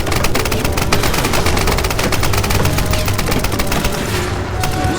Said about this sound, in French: Là il tire sur les démons.